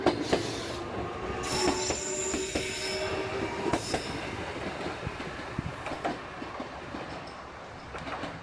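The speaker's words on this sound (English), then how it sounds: "we've got to go see the train off real quick" A train pulling away from Mirozu Station on a coastal line in Japan, with squealing wheels, rumbling carriages and intermittent clacks, loud and close, fading slightly as it departs.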